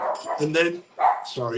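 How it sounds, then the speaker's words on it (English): A dog barks a few times in short bursts at a cricket setting, mixed in with a man's speech. "that's the dog barking there"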